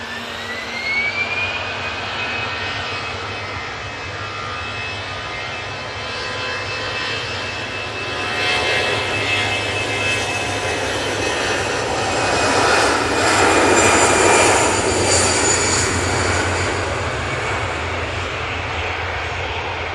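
Brussels Airlines jet airliner taking off, engines roaring loud and close with a high whine over a deep rumble, swelling in power midway and holding, no voices.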